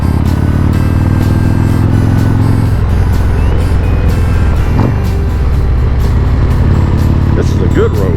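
Harley-Davidson Road Glide motorcycle riding along Tennessee backroads, its engine a loud, steady close drone with wind rush that shifts slightly partway through and holds to the end.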